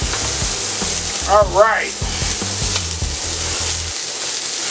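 Chicken pieces sizzling steadily on a griddle set over half of a stovetop, a loud continuous frying hiss with a brief stir or scrape partway through and a short spoken word.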